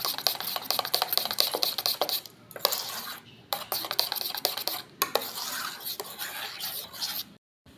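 A spoon scrapes and clinks against a bowl while okra paste and cornflour are mixed, a rapid, close rhythm of rubbing strokes broken by a few brief pauses.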